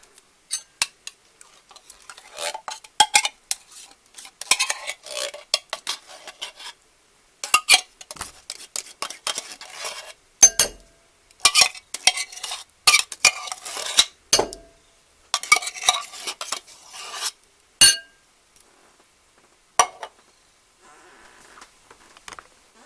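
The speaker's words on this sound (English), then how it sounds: "And now I'm going to mix the soup." A utensil stirring canned soup in a dish for a Reuben casserole, with intermittent clinks and scrapes against the bowl in short bursts broken by pauses, close and fairly quiet.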